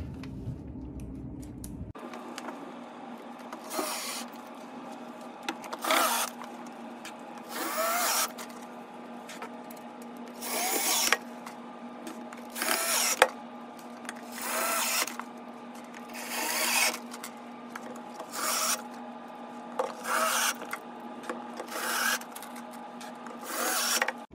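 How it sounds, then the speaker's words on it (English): A power drill drives fasteners into the frame of a fixed-height teacher's desk during assembly, giving a run of short whirring bursts spaced a few seconds apart over a constant low hum, close and fairly quiet, with no talk. "I'm going to hold her in place while Matt shoots in all number 1 fasteners, holding everything in place to the top"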